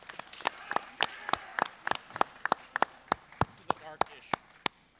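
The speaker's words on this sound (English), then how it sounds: "Give yourselves a round of applause." Sparse, scattered hand claps from a small panel audience at a gun convention, a few dozen separate sharp claps spread over five seconds rather than a dense roar, fairly close and moderately loud.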